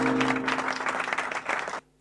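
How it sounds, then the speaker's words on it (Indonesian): A worship congregation applauds together, a dense steady wash of clapping with a held musical tone beneath, then stopping abruptly near the end. "Berikan tepuk tangan yang meriah buat Tuhan."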